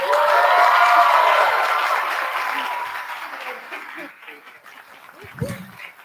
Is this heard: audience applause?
yes